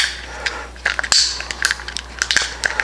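Small homemade suppositories popping out of a mold: a close series of soft clicks, snaps and crinkling plastic sounds at an uneven pace.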